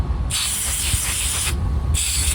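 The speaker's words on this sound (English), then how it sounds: "Spray some lubricant there." Two bursts of hissing spray from an aerosol lubricant can, aimed into a stuck motorcycle throttle cable, a long one then a shorter one, close and steady.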